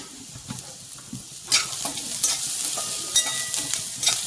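Vegetables frying hard over a full gas flame for crispy corn, a steady close sizzle with sharper bursts as a spoon stirs and scrapes the pan.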